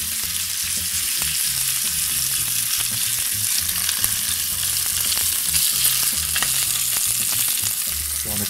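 Ibaïona pork pieces, belly among them, sear in a hot pan, giving a steady, close, loud sizzle with small crackles and the odd stir or scrape throughout.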